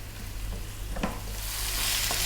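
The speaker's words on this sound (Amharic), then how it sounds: "4 ደቂቃ ዶሮአችንን እንጠብሳለን።" Thin-sliced boneless chicken sizzles steadily in a pan over medium heat for an Ethiopian chicken tomato pasta. A close, continuous crackle builds slightly louder toward the end, with no talking.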